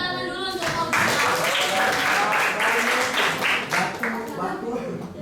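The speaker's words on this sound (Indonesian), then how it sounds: "Tepuk tangan dulu untuk Fauzia." Students in a classroom clap for a classmate called up to the front, a lively burst of many hands under a teacher's voice and chatter, holding steady before thinning out.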